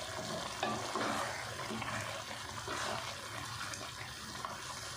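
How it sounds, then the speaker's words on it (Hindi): Potato pulao rice being stirred gently in a pot, a soft continuous scraping and wet shuffling with faint sizzle, steady and close, with no talking. "थोड़ा सा हल्के हाथ से हिला लेते हैं"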